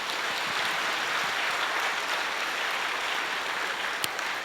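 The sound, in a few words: audience applause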